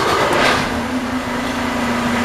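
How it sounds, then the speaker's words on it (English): A used semi truck's diesel engine running just after start-up, a steady low droning hum with a constant tone, loud and close throughout with no speech. "Start it up, listen to it, start."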